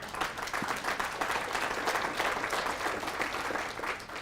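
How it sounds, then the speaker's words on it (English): An audience at a breakfast event for a gubernatorial candidate applauds, a sustained, even patter of many hands clapping in a large room. "And yes, you should clap for that too."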